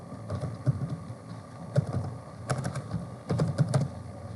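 Password typed on a computer keyboard, a quiet, close run of irregular key clicks in short bursts with brief pauses between, and no talking.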